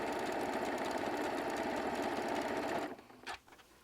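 A sewing machine stitches fabric strips for strip-pieced appliqué at a brisk, fast pace, a dense continuous buzzing whir close up that stops abruptly near the end, followed by a small click.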